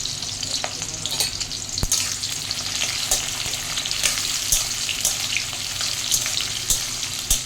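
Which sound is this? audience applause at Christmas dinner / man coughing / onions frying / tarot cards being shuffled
onions frying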